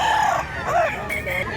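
A young bullstag rooster crows close by in two short rising-and-falling bursts, loud against a steady ambient background.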